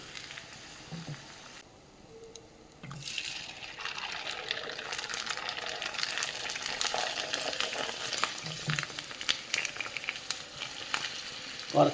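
Rice papads crackle and sizzle as they fry in hot oil, a steady dense hiss with small popping bursts that swells after a brief quieter moment and carries on throughout, with no talking.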